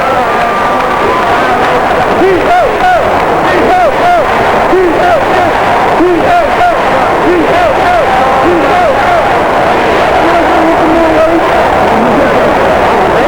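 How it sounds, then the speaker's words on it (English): A crowd of Tecumseh fans cheers and chatters loudly at a state championship high school basketball game in the RCA Dome, with sneaker squeaks chirping repeatedly over the dense roar throughout. "The crowd of Tecumseh."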